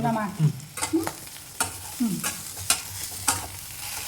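Ridge gourd roasting in a pan as a spatula stirs it: repeated scraping strokes, about six, over a soft, steady sizzle, close and clear with no talking.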